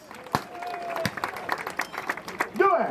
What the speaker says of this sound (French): Et on l'applaudit, on remercie bien fort Raniero